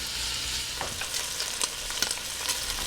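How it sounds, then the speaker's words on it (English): Rashers of bacon frying in a pan for Irish Dublin coddle, a continuous soft sizzle and crackle with occasional spatula taps, close and fairly quiet, no voices. "I'm going to add our rashers, and we're just going to fry these till they start to take on some color"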